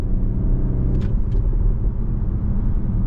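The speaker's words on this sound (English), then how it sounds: "listen to that throttle crack" A 2024 Audi SQ5 on the road gives a deep steady engine rumble close up, with a brief sharper rasp partway through, loud and continuous without talk.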